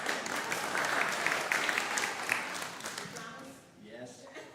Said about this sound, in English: one last thing to clap about.